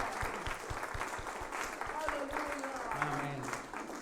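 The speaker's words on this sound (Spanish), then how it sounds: "¿Por qué no le ofrendamos aplausos a nuestro Dios?" A church congregation claps steadily in rhythmic applause, with voices and cheering mixed in throughout.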